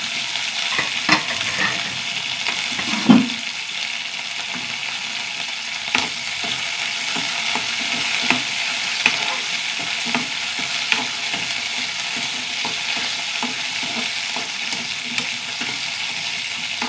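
Shallots, garlic and dried red chilies sauté in hot oil with a steady sizzle, broken by occasional clinks and scrapes of a spoon stirring the pan, close up with no talk.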